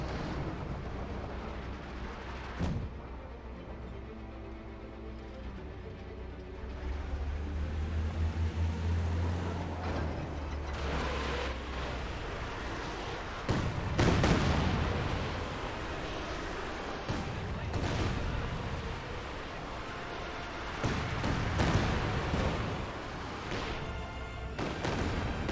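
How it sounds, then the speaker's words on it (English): Distant artillery from a smoke barrage booms several times in the strategy war game Company of Heroes 2, with dull thuds and rumbling impacts spread irregularly over a steady battlefield ambience. "Smoke barrage firing somewhere."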